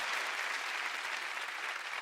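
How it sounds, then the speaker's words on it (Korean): Steady, dense applause from a large party crowd after a company speech, loud and unbroken throughout with no voices over it. "박수가 쏟아집니다."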